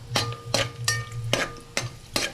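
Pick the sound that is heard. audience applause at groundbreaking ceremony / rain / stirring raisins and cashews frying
stirring raisins and cashews frying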